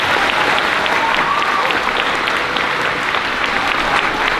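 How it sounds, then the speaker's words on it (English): Steady, dense applause from a large audience at a 5th grade moving-up ceremony, loud and continuous throughout, with a few faint voices and whistles mixed into the crowd. "Give them a round of applause"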